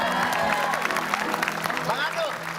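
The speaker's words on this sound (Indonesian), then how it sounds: "Tepuk tangan untuk Baby." An audience bursts into applause at an Indonesian comedy show, a dense, steady clapping wash lasting a few seconds, mixed with crowd noise and faint voices underneath.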